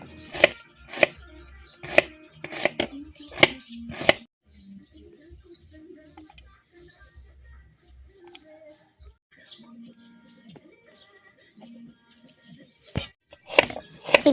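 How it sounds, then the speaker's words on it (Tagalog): Red onion chopped with a knife on a board: sharp, evenly spaced strikes in a quick run, then a quiet stretch of soft handling noises, then a few more chops, close by. "At ngayon, maghiwa na ng sibuyas na pula."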